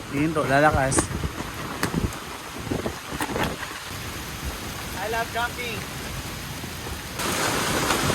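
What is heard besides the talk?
heavy typhoon rain while car camping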